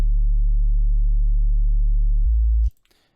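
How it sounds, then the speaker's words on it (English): A pure sine-wave sub bass from an FL Studio liquid drum and bass track holds one deep, steady note, then steps briefly to a slightly higher pitch before cutting off abruptly into near silence. "let's dive into the bass, and I'll show you how I made the sine wave. Sorry, the sub bass,"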